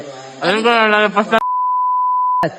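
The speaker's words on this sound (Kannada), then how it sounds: "ಬೀಪ್ ಸೌಂಡ್ ಎಲ್ಲ ಬೀಪ್ಗ್ಲೇ ಎಲ್ಲ ಕಟ್ ಮಾಡ್ಬಿಡಿ, ಬೀಪ್ ಬೇಡ" A voice speaks briefly, then is cut off by a single steady censor beep lasting about a second before the voice returns.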